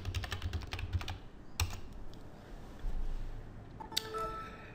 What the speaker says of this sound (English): enter my PIN